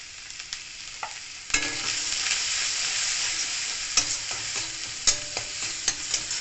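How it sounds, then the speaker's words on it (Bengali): Spices frying lightly in a pan for a Bengali red amaranth leaf sour dish, a steady close sizzle with sharp scraping stir clicks scattered through, louder after an added ingredient hits the oil. "আমি হালকা করে ভেজে নেব।"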